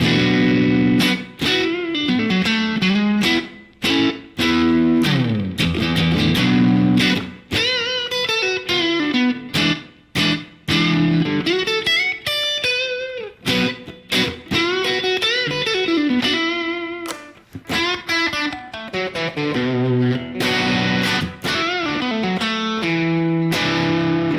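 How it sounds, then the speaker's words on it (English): Electric guitar played through a Boss DS-2 Turbo Distortion pedal set for light distortion, with loud, continuous riffs and chords that keep a compressed, driven edge while the notes ring clearly. "So let's see what it sounds like with a light distortion."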